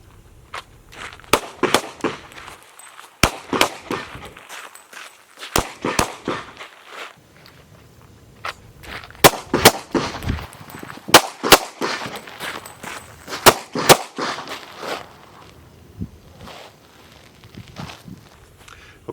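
Pistol fired at three targets on an outdoor range while backing up, sharp loud cracks in quick clusters with short pauses, mixed with shuffling footsteps.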